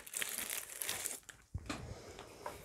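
Plastic foil crinkled and handled close by while preparing diamond painting plates, a continuous rustle with a short pause midway.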